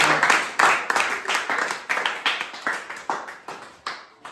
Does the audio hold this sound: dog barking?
no